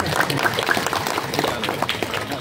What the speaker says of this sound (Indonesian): Tepuk tangan Muhammadiyah, saya dari tadi belum tepuk tangan.